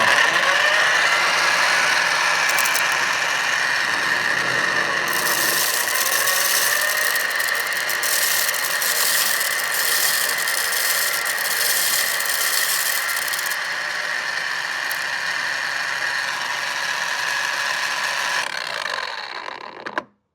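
A small motor on an automatic koi pond food feeder runs steadily and close by, a continuous mechanical whirring and ratcheting that holds for about twenty seconds before stopping abruptly.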